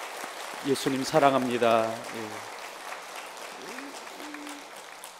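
A church congregation at a Christmas Day service breaks into warm applause, steady clapping from a crowd under a voice speaking briefly.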